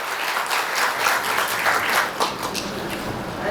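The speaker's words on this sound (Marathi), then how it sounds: "जोरदार टाळ्या उडवल्या यांच्यासाठी." Sustained applause from a college audience at a road safety awareness event, an even wash of many hands clapping at moderate loudness from a slight distance, with no voices over it.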